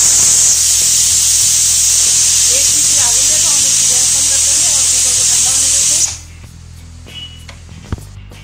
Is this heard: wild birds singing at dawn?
no